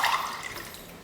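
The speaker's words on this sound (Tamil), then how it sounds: "இப்போ தண்ணி சேர்த்துக்கலாம்" Water splashes into a pot holding rice and lentils, a brief burst of pouring and splashing that quickly fades to a trickle, close by and without voices.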